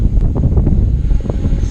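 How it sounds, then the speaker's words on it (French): Wind buffeting the camera microphone of a modified Hubsan H501S drone in flight, a loud, continuous low rumble with rough gusty fluctuations and no voices. "là il y a du vent"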